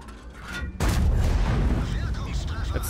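A World of Tanks tank cannon fires its last shell, a sudden loud boom after a quiet lead-in, followed by a rumbling crash and lingering noise.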